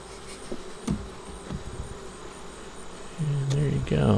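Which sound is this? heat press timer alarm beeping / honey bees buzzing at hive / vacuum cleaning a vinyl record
honey bees buzzing at hive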